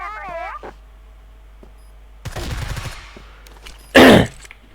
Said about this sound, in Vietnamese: Bắn hết cả thời gian rồi này.